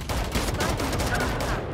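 Rapid bursts of gunfire from a Valorant match crackle densely and loudly throughout, shot after shot in quick succession with no pauses.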